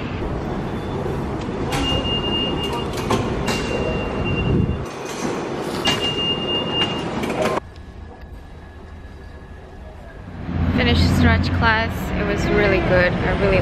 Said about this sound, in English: I'm heading to the subway now